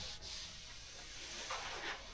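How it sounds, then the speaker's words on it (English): Steady close sanding on the body of a 1976 BMW 2002 during a repaint, a continuous raspy rubbing hiss with slight strokes and no talk. "More sanding."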